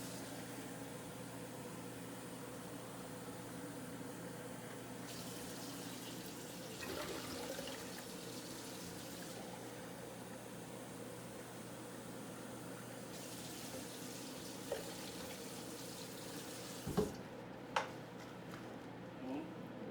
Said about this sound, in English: I am going to repeat that process of rinsing 2 additional times.